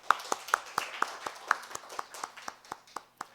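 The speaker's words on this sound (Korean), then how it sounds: "하나님께 이 시간 영광의 박수를 올려드리도록 하겠습니다" Rhythmic clapping rises from a church congregation during a Sunday sermon, with about fourteen evenly spaced claps in unison, moderately faint and steady in tempo.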